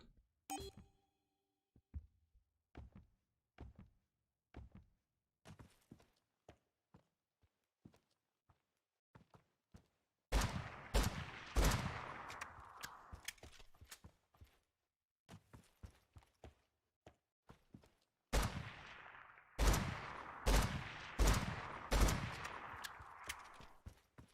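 Video game combat gunfire: sparse single shots early, then rapid sharp bursts of automatic fire in two dense clusters, crisp and fairly close, with no talk.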